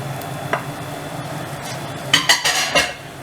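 Garlic and ginger dropped into hot oil in a pan for a spicy beef curry, a soft sizzle under a few sharp clinks and stirring scrapes of a utensil against the pan, close by.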